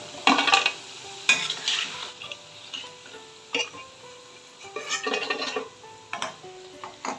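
Boondi for motichoor laddu fries in hot oil until golden. A crackling sizzle carries on throughout, with clinks and scrapes of a metal ladle against the pan at irregular intervals and no speech.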